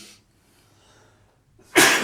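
After near silence, one sharp, loud sneeze bursts out close to the microphone, preceded by a brief intake of breath.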